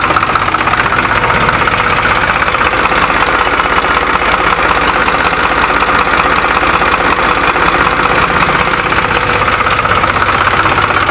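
A sand-hauling tractor with no number plate idles close by at night near the Manjira river in Pothangal mandal, its steady knocking diesel rumble running unbroken and loud throughout with no talk over it.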